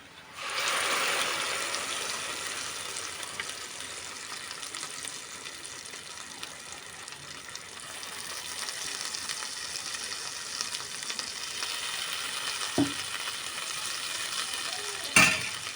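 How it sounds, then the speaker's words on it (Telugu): Soft, steady sizzling of an onion gravy for stuffed brinjal curry cooking in a pan, with occasional light clinks and stirring, no talking. "ఇది బాగా వేగాలి"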